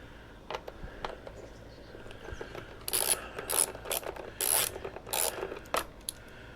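Ratchet loosening bolts on a Tusk pannier rack fitted to a Honda CRF300L Rally, heard up close as several bursts of rapid clicking, the loudest ones coming in a cluster toward the end with short pauses between them.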